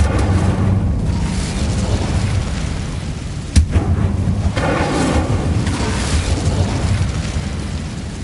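A fire spell roars in the Hogwarts Legacy video game, a loud sustained whooshing rumble with a sharp crack partway through and surging bursts of flame afterward.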